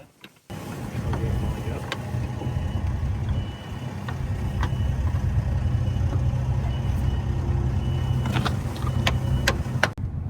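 A British Leyland engine runs steadily at idle in a rebuilt heavy machine, a continuous low rumble with occasional metallic clicks and knocks on top, loud and close throughout.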